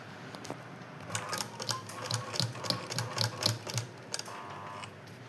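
A sewing machine stitching a blouse sleeve, running in short bursts of fast mechanical clatter and ticking, fairly quiet and close, with no talking.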